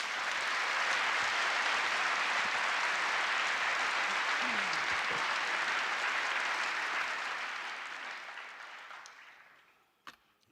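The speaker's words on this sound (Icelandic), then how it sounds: "Gefum henni gott klapp." Dense audience applause at a large public rally for Palestine, a loud steady wash of many clapping hands that holds for several seconds, then tapers off and fades away near the end.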